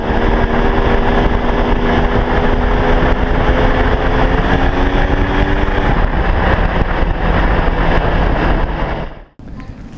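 A 2017 KTM 300 XCW two-stroke dirt bike engine revs while riding at partial throttle, its rising and falling buzz loud and close under wind rush before cutting off abruptly near the end.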